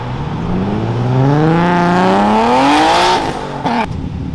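A stanced, slammed Dodge Charger drives past close by, its engine loudly revving and rising in pitch as it approaches, then dropping away.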